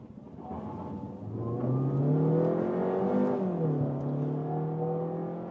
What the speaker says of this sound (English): Just when I really floor it down like this, then you also have it more audible from the whole engine.